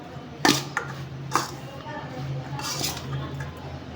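A spoon mixes spiced lemon rice (chitrannam) in a metal pan, giving a few sharp close clinks and scrapes against the dish, while someone talks softly underneath.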